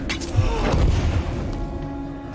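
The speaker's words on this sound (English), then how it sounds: "No, they just explode." Enemies bursting apart in the tactical game The Banner Saga 3: a dull, muffled boom with a rumbling low tail over about two seconds.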